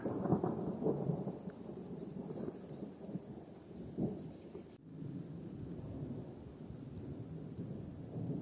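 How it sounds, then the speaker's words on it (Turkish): Steady rain falls outdoors in nature while deep thunder rumbles and rolls, with a sharp crack partway through, then the downpour continues. "Doğanın içinde yağmur yağıyor, kuş sesleri, hava gürültüsü"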